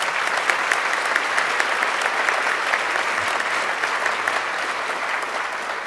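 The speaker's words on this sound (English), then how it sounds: "Please give them your greetings and applause." Steady, dense applause fills a large hall at a medical school white coat ceremony, loud and continuous throughout with no voices over it.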